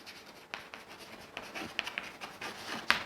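Geometry proof being written on a board with pen or chalk: soft scratchy strokes and taps, close and fairly quiet, in short bursts over a few seconds.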